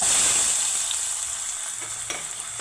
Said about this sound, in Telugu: ఇందులోని ఉల్లిపాయలు వేయించుకుందాం.